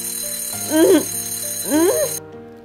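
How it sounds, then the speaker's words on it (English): A bright, metallic alarm clock rings in steady tones under a voice that speaks in two bursts, then the ringing stops abruptly near the end. "I can hear the alarm clock."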